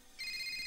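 A telephone starts ringing partway through with a steady electronic ringtone, clear and moderately loud, with no talking over it.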